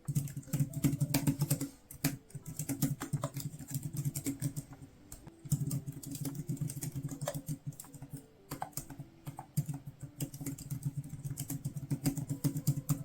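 Steady, soft key clacks from a pantograph keyboard for a Galaxy Tab patter away continuously from close by, with a quick, light rhythm and a brief pause in between.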